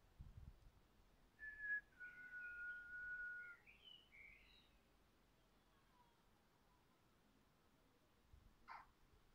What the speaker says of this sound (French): Je vais siffler maintenant.